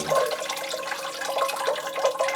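Water pours steadily over the thick, fleshy roots of a Phalaenopsis orchid, a continuous close splashing trickle with faint gurgling throughout.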